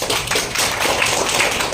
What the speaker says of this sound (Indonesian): mau tepuk tangan yang meriah dong?